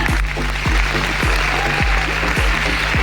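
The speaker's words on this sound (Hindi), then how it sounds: "तो पहले मेरे पति देव के लिए एक जोरदार तालियां," An audience at a business meeting in Mumbai claps loudly and steadily, a dense sustained patter with a repeating swooping tone running underneath.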